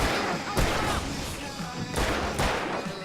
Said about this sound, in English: I can set off more of the fireworks!